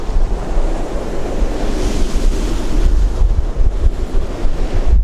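Sea waves and wind at the water's edge in Blackpool, with loud continuous surf wash and heavy wind rumble buffeting the microphone, no voices.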